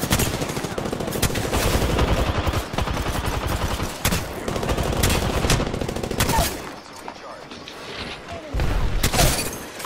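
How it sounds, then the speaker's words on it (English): Gunfire in the Apex Legends battle royale game: dense, repeated automatic bursts and rapid shots in several close, loud waves across the clip, with no talk heard. "Opening fire."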